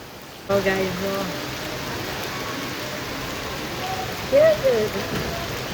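Steady rain hisses throughout, a constant wash of patter, while a couple of voices speak briefly near the start and end.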